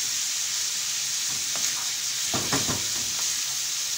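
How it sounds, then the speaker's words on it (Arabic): Minced meat fries in melted butter in a pan, a steady hissing sizzle with a short burst of stirring scrapes midway, close and without voices. "نقلب باللحم باش يطيب لي."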